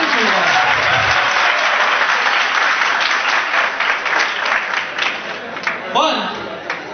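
Sustained audience applause during a career guidance talk on paths after engineering, a steady roomful of clapping that thins out toward the end, with a voice briefly audible near the close.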